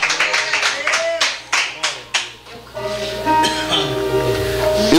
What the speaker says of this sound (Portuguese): E as palmas para ele nessa noite, porque Jesus está aqui